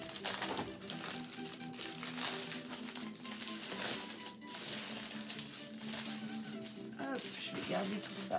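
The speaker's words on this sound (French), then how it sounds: "Donc toujours pareil, papier de protection." Protective paper from a diamond painting kit crinkling and rustling as it is unwrapped, a steady close handling noise with soft speech underneath.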